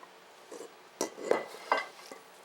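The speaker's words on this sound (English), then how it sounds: "Now I'm going to mix the flour." A wooden spoon stirs flour mixture into banana bread batter in a bowl, giving a few faint, separate knocks and scrapes against the bowl in a quiet kitchen.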